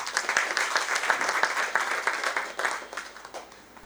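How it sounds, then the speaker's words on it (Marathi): An audience at an award ceremony applauds for a performer, a sustained burst of dense clapping that tapers off toward the end. "जितेंद्र भुरुक यांसाठी जोरदार टाळ्या"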